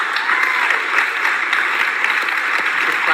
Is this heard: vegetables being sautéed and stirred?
no